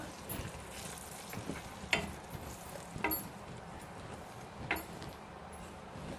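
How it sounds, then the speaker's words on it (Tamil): Wheat flour roasting in melted ghee over a low flame for laddus, a quiet steady frying hiss with a few distinct scraping strokes of a spoon against the pan, close and without voices. "இந்த கோதுமை மாவு போட்டுக்கணுங்க. நல்லா சிம்மில் வச்சுட்டு வறுத்துக்கிட்டு இருக்கலாம்"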